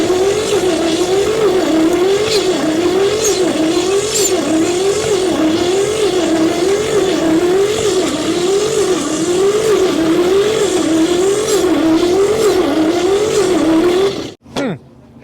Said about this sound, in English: Open that throttle all the way up.